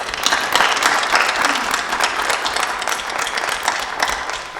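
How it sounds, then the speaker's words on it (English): A room of people at a school board meeting claps steadily and warmly for several seconds, a dense, even round of applause with no voices over it. "Please join me in giving a round of applause"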